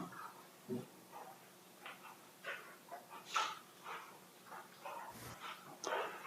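Puppies whimpering and yipping, a string of soft, thin whines and short barks coming at irregular intervals, faint and somewhat distant against a quiet background.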